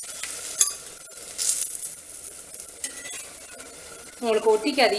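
Ragi paneer roti cooks on a hot pan with a little oil, giving a soft sizzle and scraping turns, while someone speaks briefly near the end.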